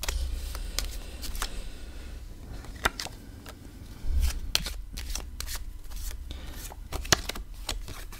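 Tarot cards are shuffled close by, with repeated sharp riffling snaps and soft rubbing strokes at an uneven pace, fairly quiet against a low background rumble.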